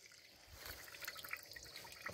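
Fresh apple juice trickles out of a fruit press, a faint, close, steady liquid dribble with small splashy drips scattered through it.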